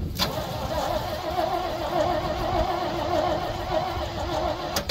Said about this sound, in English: That starter sounded like a piece of crap for a minute.